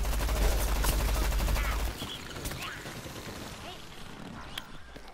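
Weapon fire in the Plants vs Zombies Garden Warfare video game, heavy rapid shooting at first and then fading to scattered single shots, with a player talking over it.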